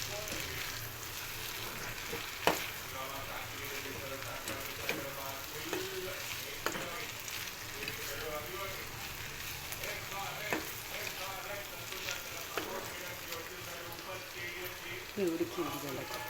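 Okra (bhindi) fries in a pan with a moderate, steady sizzle. Soft scraping and a few sharp utensil clicks come through, and no voice is heard.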